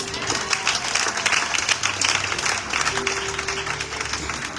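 A church congregation at a Sunday service applauds, steady dense clapping from many hands filling the room, with a few voices and a sustained tone underneath.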